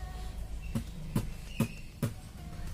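A voice imitates a bass drum kick, four short, low thumps spaced evenly over a faint background hiss.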